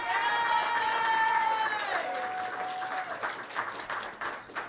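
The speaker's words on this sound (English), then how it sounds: "Clap it up." Steady audience applause at a school board meeting as a second-grade student is honored, a dense crowd clapping throughout with a sustained tone ringing over it at first.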